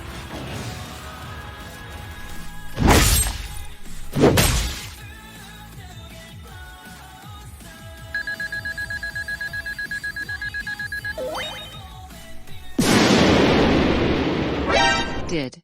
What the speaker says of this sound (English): Did Iris just explode?